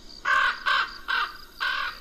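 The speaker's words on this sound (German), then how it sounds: "Das ist der Rabe von Grundella." A raven from a German Playmobil story film caws four times in a steady rhythm, each call harsh and rasping, loud and close with no speech over it.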